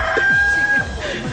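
Chickens near fishball carts clucking briefly over a steady background noise, with faint voices around.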